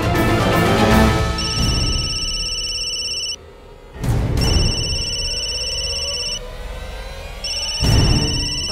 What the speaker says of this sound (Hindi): भवानी फोन ले,